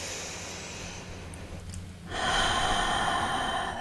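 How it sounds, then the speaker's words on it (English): A slow breath drawn in through the nose and let out through the mouth, close and soft, with a hushed inhale followed by a louder, broad airy exhale that starts about halfway through. "I like to breathe in through my nose and then take those long exhales out through the mouth."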